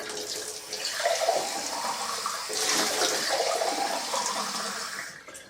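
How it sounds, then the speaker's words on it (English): Steady rush of water pouring from a tap for several seconds, a constant hissing splash that fades out near the end. "it's supposed to run the tap for a few seconds before using it"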